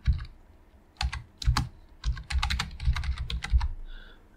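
Someone types on a computer keyboard at close range, tapping out irregular bursts of clicky keystrokes separated by short pauses.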